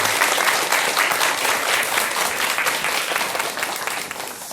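An audience applauds at a Buddhist TV lecture as a monk is welcomed to the stage, with dense, sustained clapping that stays loud and even, then tapers slightly at the end.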